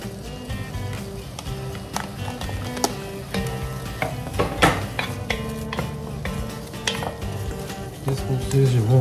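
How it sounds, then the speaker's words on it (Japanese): Sausages sizzle and fry in a pan over medium-low heat, a steady crackling hiss with occasional stirring clicks and scrapes, close and fairly loud throughout. "ソーセージ入れます。"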